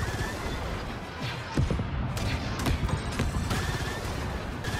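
Dense, continuous blaster-style gunfire and crashing impacts fill the scene as a satellite dish at an enemy ship base is shot apart in Star Wars Outlaws, with steady loud bursts throughout.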